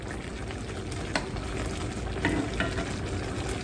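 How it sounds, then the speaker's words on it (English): Pasta shells stuffed with meatballs simmering in gravy, with a dense, steady bubbling sizzle and a few soft pops and stirs, close by and with no voices. "from here, you just wanna let them simmer for about 15 more minutes"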